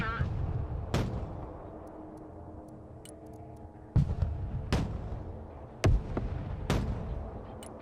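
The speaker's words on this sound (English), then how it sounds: "Mortar ready to fire." Mortar fire in the real-time strategy game Broken Arrow: several loud, sharp booms spaced a second or two apart over a low battlefield rumble, with voices heard between them.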